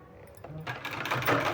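A sewing machine stitches a folded sleeve, starting from near quiet and quickly building into a close, dense mechanical whir that continues to the end.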